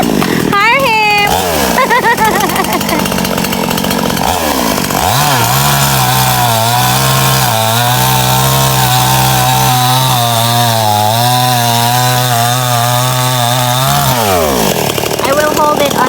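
A small Stihl chainsaw revs up and cuts wood in a loud, steady, close whine for about ten seconds, with a brief rev before it, then winds down and stops.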